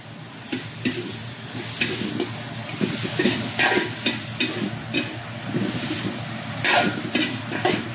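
Pork and ampalaya (bitter gourd) fry in a pan with soy sauce added, giving a loud, steady sizzle broken by repeated stirring scrapes and clacks of the utensil against the pan.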